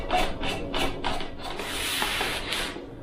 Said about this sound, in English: Going in with the Scotch-Brite, and you're basically pulling that paint off